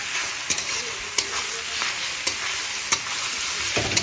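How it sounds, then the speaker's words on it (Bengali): Carrot and capsicum frying in a pan for fried rice at an outdoor picnic, a steady close sizzle with a few brief stirring clicks and scrapes over about four seconds. "ক্যাপসিকামটা ভাজা হচ্ছে।"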